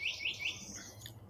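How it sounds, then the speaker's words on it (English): Birds chirping outdoors on a spring morning in Lakeland, Florida, with three quick repeated chirps up front and then softer, scattered calls against light background noise. "oh yeah, them birds are chirping."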